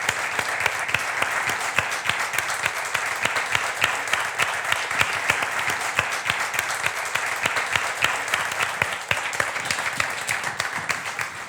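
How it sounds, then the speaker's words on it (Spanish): An audience at a club talk applauds for Sybilla with sustained, even clapping that holds steady and fairly close for over ten seconds, crisp individual claps standing out from the general roar. "un aplauso para Sibila"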